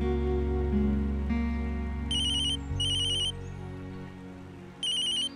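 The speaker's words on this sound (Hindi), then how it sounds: "दीपक भैया का फोन है" A telephone ringtone sounds in three short electronic bursts, the last after a longer pause, over a low sustained background music bed.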